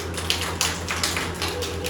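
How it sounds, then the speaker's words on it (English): Children in a classroom clap for themselves, a soft, scattered patter of small hands with a few sharper taps, fairly close and steady over a low background hum. "Clap for yourself."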